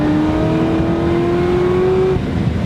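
A Corvette ZR1 pulls hard through a 40 mph roll test, its engine note climbing steadily as a loud, continuous drone for about two seconds before easing off, with no talking over it.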